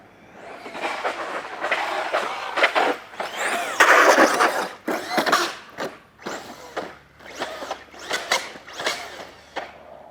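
A Tekno MT48 2.0 1/8-scale RC monster truck accelerates hard in repeated bursts, a loud rising electric whine and rattling drivetrain surging and fading several times close by.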